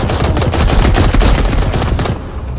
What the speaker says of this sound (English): It's a whole firefight.